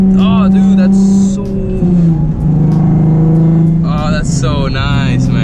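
A Nissan 370Z accelerates hard in second gear, its engine note climbing steadily in a loud, close drone before a brief dip at the shift and a fresh rise, with excited talking over it.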